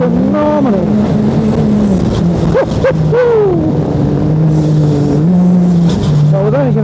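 A side-by-side off-road vehicle accelerates hard, its engine droning loud and close with rising and falling pitch as the driver works the throttle. Occasional speech is heard faintly under the engine.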